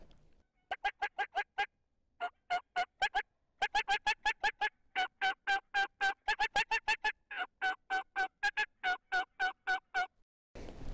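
Wild turkeys gobble over and over in long rattling bursts, loud and close during a hunt, several birds calling in quick succession with brief pauses between runs.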